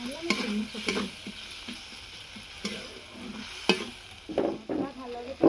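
Spices frying in a pan with turmeric powder added for ghugni, a low sizzle punctuated by several sharp spatula clinks and scrapes at uneven intervals, close, with faint background sounds and no clear speech.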